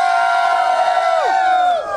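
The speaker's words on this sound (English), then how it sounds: "This massive crowd that's come out today" A large outdoor crowd at a Sacramento rally cheers and shouts steadily and loudly, sustained whooping voices blending into one roar that dips at the very end.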